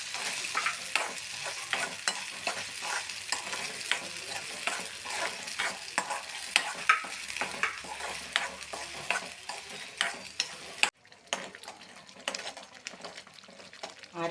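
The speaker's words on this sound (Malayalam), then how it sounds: "ഇതിനകത്തോട്ട് ചേർത്ത് വഴറ്റിയെടുക്കാം ഇത്തിരി എണ്ണ കിടന്നൊന്ന് നല്ലപോലെ ആക്കിയെടുക്കാം" Ground masala paste is sautéed in a little oil for Kerala chickpea curry, a continuous close sizzle and crackle with repeated stirring scrapes of a spoon in the pan, briefly interrupted near the end before frying resumes.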